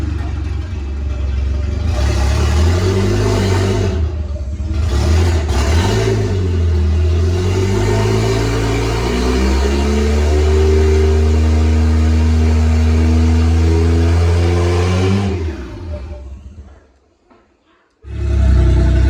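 A Toyota Aristo with a 1JZ-GTE engine and a swapped five-speed manual rolls along in second gear, its steady engine hum droning loud and close for most of the run before dropping away abruptly near the end.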